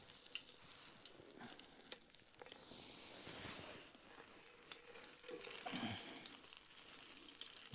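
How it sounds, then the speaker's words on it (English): Sausages sizzle and crackle quietly in a frying pan at a woodland camp, a soft steady hiss with small pops, no voices. "as you can hear, it's a nice little sizzle, starting to brown already"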